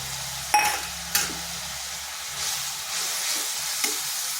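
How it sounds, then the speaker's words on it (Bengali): Spice paste for kakrol curry frying in hot oil with a bright, continuous sizzle, a few sharp clinks of a spoon against the pan punctuating it, close and loud, with no talk. "দিচ্ছি যে মশলাটা পেস্ট করে রেখেছি।"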